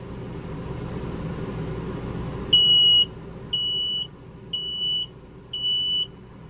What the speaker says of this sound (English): a carbon monoxide and LP detector that makes a real annoying little sound when you push the button